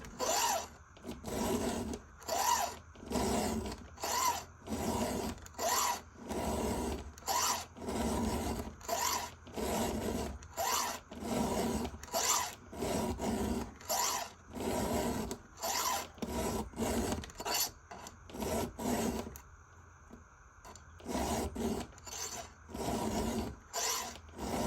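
A hand file rasps across a chainsaw chain in steady, rhythmic strokes, close and loud, repeated dozens of times with a short pause near the end before the filing resumes.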